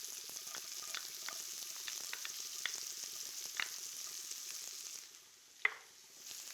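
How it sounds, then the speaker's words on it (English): Garlic sizzles and fries in a pan alongside golden shallots, a steady crackle broken by light stirring clicks and a sharp tap near the end as the sizzle quiets down. "Once that shallot is a bit golden, now I'm going to add the garlic, and I'm turning the heat right down."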